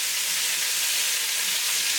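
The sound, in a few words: chicken quarters searing and browning in a pan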